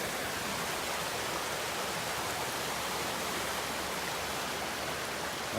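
A flooded creek pouring over a road after a flood, a steady, loud, broadband rush of moving water with no pauses or voices.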